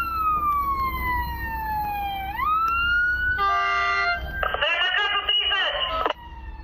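A fire engine crosses a railway line just ahead of a train in a village in Cluj County, its wailing siren sweeping up and down loudly, followed by harsh blaring tones.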